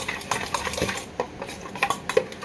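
Homemade slime mixture being stirred in a bowl, soft intermittent sticky clicks and scrapes, quiet and close with no talking.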